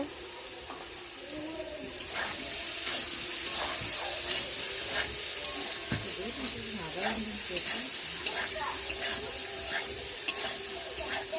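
Soybean chunk curry fries in oil with turmeric, a bright crackling sizzle broken by sharp scraping and stirring clicks from a spoon against the pot, with a faint voice murmuring underneath.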